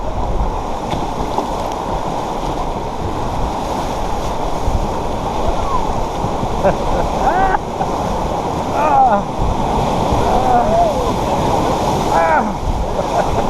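River rapids and waves roar steadily around a raft in Denali, a dense close wash of water with wind, while faint shouts rise over it.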